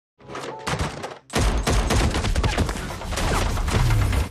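A shootout scene from the 2022 film Blacklight erupts after a short pause into a dense, loud volley of gunfire, rapid overlapping shots and impacts rolling on for several seconds.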